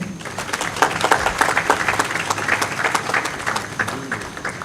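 An audience at a DoubleTree hotel inauguration in Congo breaks into sustained, dense clapping that swells slightly and holds steady for several seconds.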